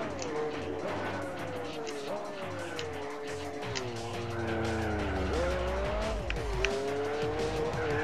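A race car in Gran Turismo 4 brakes hard and drops through the gears. The engine whine steps down in pitch with each downshift, under a steady low rumble and some tire noise, while someone talks over it.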